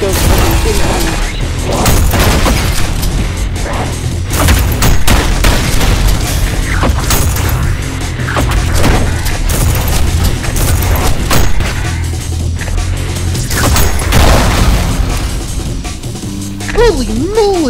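Heavy, sustained gunfire and booming explosions from the fast-paced shooter ULTRAKILL, dense and loud throughout with repeated thumps and blasts.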